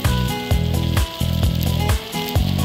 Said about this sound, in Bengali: এখন এটার মধ্যে অনেকক্ষণ নেড়ে ছেড়ে ভালো করে ভেজে নেব